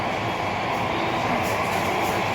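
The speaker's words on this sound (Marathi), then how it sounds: "मेट्रो बघा मस्त अशी टन घेते" Mumbai Metro Aqua Line 3 underground train rounding a curve, a steady, loud broadband rumble of wheels and carriage noise filling the whole stretch without a break.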